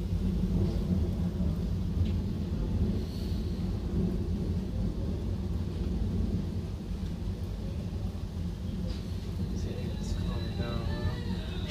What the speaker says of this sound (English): it's not really calming down. It's pouring out.